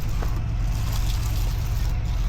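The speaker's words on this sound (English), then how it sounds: "Pump truck on site this morning." A concrete pump truck runs on a building site for a sports barndominium slab pour, giving a steady, loud low engine drone that holds without a break.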